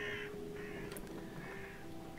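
A single crow caws once, fairly faint and distant, over a quiet steady hum of ambient background inside the game Amnesia: A Machine for Pigs.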